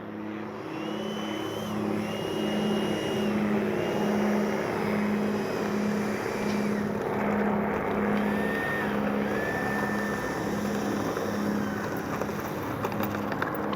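A Freewing F-22 90mm RC jet rolls on a runway, its electric ducted fans giving off a loud, continuous whine that rises and dips slightly in pitch over a steady rumble.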